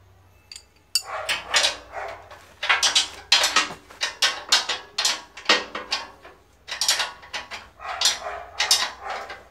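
Rapid clicking ratchet strokes tightening bolts on a model articulated tractor chassis, in close, busy bursts with brief pauses between them.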